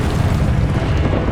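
A Confringo fire-blast spell in Hogwarts Legacy bursts into a loud, deep, rumbling explosion that fills the whole moment without letup.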